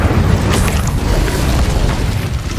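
An Incendio fire spell cast in Hogwarts Legacy gives a sustained deep roaring boom, dense and loud throughout, with no voices over it.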